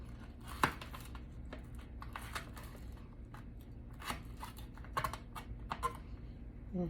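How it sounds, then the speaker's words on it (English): Onion being finely chopped with a knife on a board, producing quiet, irregular light taps and clicks spread across the whole stretch, with no talking. "You see how fine I'm cutting that onion up?"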